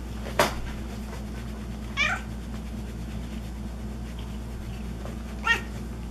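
A cat meows three separate times, short and fairly close, against a steady low hum, with quiet pauses between the calls.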